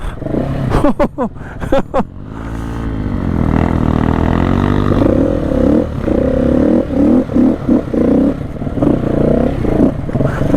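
A Honda XR 150 motorcycle rides through deep sand at Moab, its engine holding a loud, steady drone that rises and strains. Brief voices and clatter come just before the run.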